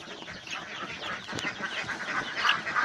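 A flock of four-week-old Roman Brown laying hens keeps up a continuous chorus of cheeps and soft clucks, moderately loud and close, with no talking.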